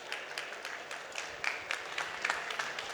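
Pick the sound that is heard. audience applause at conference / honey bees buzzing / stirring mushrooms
audience applause at conference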